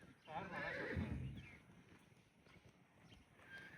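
Horses neighing sharply as the mare Gulabo leaps at and attacks the mare Nokri, a loud shrill whinny near the start, then fainter stirring and hoof sounds with wind, people's voices faint around it.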